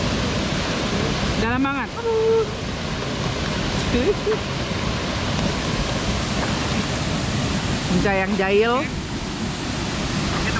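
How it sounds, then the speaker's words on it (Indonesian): Sengkuang waterfall in Kepahiang, Bengkulu, roars as a constant loud broadband rush of falling water, steady throughout, with a couple of brief voices speaking over it. "Jadi inilah air terjun Sengkuang yang berada di Kepahyang, Kabupaten Kepahyang, Bengkulu."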